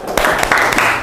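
A classroom group applauds after a presentation, a brief dense burst of many hands clapping at once, loud and close, lasting about a second.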